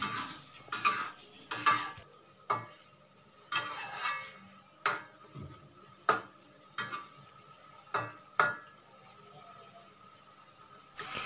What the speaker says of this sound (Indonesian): Setelah tomatnya dimasukkan, kita aduk-aduk kembali biar tomatnya itu tercampur rata.